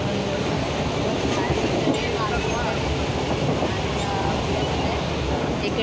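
A crowded local train bound for Kalyan runs with a constant, loud rumbling roar and rattle from start to finish, with passenger voices mixed into the din.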